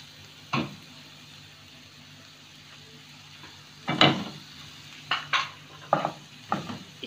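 A spatula scrapes and stirs peas, carrots and green chili in a pan, in scattered strokes over a soft sizzle, with the scrapes coming quicker toward the end.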